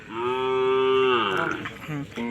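Kangayam cattle low with a long, loud, sustained moo at a Tamil Nadu cattle market, the call wavering and breaking near its end with a short second bellow following.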